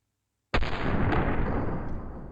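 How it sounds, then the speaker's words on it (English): A single loud Mateba Model 6 Unica revolver shot in a video game bursts after half a second of silence, its booming blast ringing out and slowly decaying over the next two seconds, with no voices present. "Pull the trigger rod pushing down the sear, it's engaging the hammer will go down, hitting the firing pin hitting the primer, round is fire"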